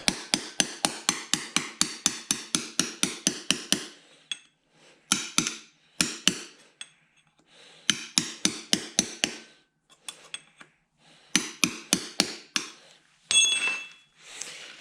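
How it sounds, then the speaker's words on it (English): Sharp metal hammering and tool strikes on a John Deere 318 lawn tractor's brake drum as a washer is pried up, a rapid run of about fifteen close, loud taps, then scattered clusters of blows with pauses and a brief metallic ring. "I'm going to take and pry this washer here up."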